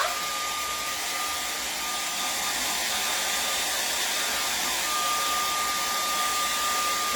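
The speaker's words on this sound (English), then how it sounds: "I'm going to grab my hair dryer, and I'm going to dry these off" Steady, loud whooshing blow of a hair dryer running continuously at close range, with a faint high whine over the airflow.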